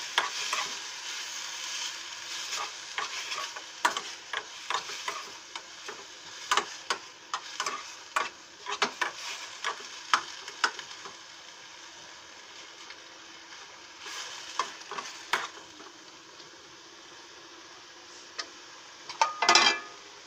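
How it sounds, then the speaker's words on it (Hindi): Mixed vegetables cook in a pan with a steady sizzle and frying hiss, broken by frequent close clicks and scrapes of stirring. "इन सबको अच्छे से अब हम पकाएंगे।"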